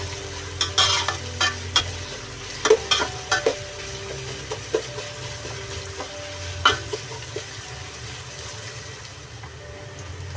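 Whole garam masala fries in oil under a steady sizzle while a utensil stirs it, knocking against the pan in irregular clusters of clacks, close up and without speech.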